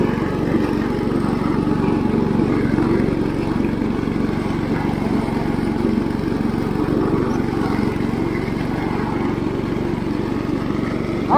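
IH Cub Cadet 149 lawn tractor mowing grass around a barn, a steady, continuous engine drone with the whirring deck running evenly and close throughout, no talk over it.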